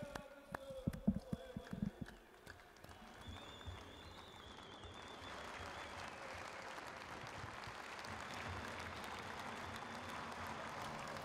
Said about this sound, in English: I give you all a big applause.